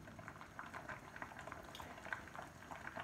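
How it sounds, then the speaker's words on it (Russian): Noodles boil in a pot of water with a steady, close, continuous bubbling and popping that stays even throughout, with no talking. "Засекаем время, когда закипела вода с лапшой."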